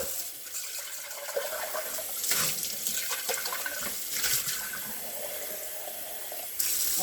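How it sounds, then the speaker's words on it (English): Tap water runs steadily into a cooking pot of BBQ and potatoes, a continuous splashing pour that holds for several seconds with slight surges, close and fairly loud. "I'm gonna add some more water to it to cover it up."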